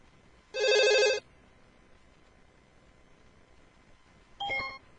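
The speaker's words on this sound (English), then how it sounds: "That was a phone call I had to take." A telephone rings with one loud electronic bell burst near the start, then a shorter, fainter ring near the end, with quiet room tone in between and no talking.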